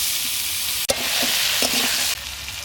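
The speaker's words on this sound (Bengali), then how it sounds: "ওই একই তেলেতে আমি দিয়ে দিচ্ছি আলুগুলো" Potato pieces go into the same hot oil used for frying pointed gourd, giving a loud, steady sizzle with a sharp clatter as they drop in and a few spatula scrapes, no voices.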